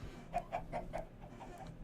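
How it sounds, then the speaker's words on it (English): Chickens clucking in the video game Minecraft, a quick run of four or five short, faint clucks in an even rhythm, then softer ones trailing off. "Got all these chickens all over my village."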